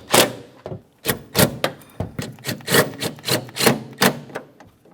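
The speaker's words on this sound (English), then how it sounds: "Put in all of your mounting bolts." Mounting bolts being fitted during a wiper motor replacement on a 2002-2005 Ford Explorer, a close series of sharp knocks and scraping clicks in an uneven rhythm, about a dozen hits, with no voice.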